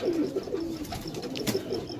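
A pigeon coos softly in repeated low rolling calls close by, with faint chirps and rustling in the background and no talk.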